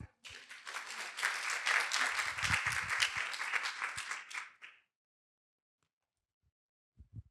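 A crowd claps steadily for several seconds, a dense patter of many hands that stops abruptly, followed by silence and a few faint bumps.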